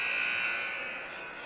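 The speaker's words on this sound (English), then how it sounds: "So there you heard the buzzer" A loud, steady electronic buzzer sounds at a high school ice hockey rink, a sustained harsh tone that fades slightly toward the end, with no talk over it.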